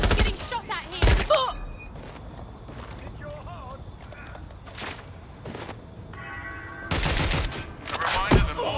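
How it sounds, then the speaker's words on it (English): Bursts of gunfire in the video game Watch Dogs Legion, several sharp loud volleys spread irregularly across the stretch, with quieter game sounds and some vocal noises between them. "Getting shot at here!"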